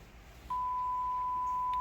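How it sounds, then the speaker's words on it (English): A military field radio without ComSec loaded emits a single steady electronic tone that starts abruptly and holds unbroken, clear against a quiet background hiss. "It's just going to beep at me because I don't actually have ComSec in this radio."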